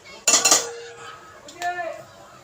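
A metal spoon clinks sharply against a pan as ghee is added, with a bright burst of taps followed by a softer ringing scrape close by.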